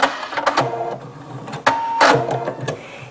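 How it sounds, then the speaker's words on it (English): A sewing machine back stitches cotton fabric while a napkin basket is sewn, producing short bursts of rapid mechanical whirring separated by brief pauses, close and moderately loud. "pull the other end out and finish stitching. And then back stitch."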